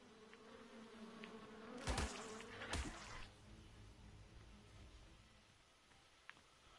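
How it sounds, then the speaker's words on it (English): Bees buzzing, with two loud, close passes that swell near the middle before the drone fades back to a faint hum. "Bees!"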